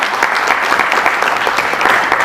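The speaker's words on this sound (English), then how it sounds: "A big round of applause for Mr." Audience applause at the Indo-Global Entrepreneurship Conclave 2023 for Mr. Deepak Bhavla, a dense, steady wash of many hands clapping close by with no voices over it.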